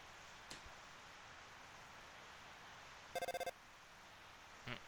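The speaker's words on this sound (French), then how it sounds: "Le téléphone." A telephone rings in the video game Deltarune, a short burst of repeated electronic ring pulses heard alone over a quiet, faintly hissing background, with a brief soft tap before it and another after.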